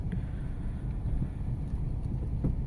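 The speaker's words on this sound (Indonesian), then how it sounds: "suara mesinnya tidak terlalu berisik ya teman-teman." Cabin of a 2024 Mazda 2 hatchback while driving, with a low steady engine and road rumble and faint wind noise, fairly quiet and even throughout, with no voices.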